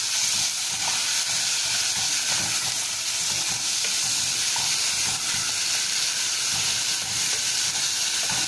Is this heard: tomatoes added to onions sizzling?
yes